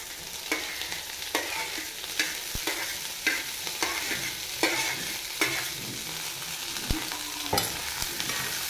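Chopped potatoes and cane shoots frying together in a pan give a continuous sizzle, broken by regular spatula scrapes and stirring strokes about once a second, close up with no voices.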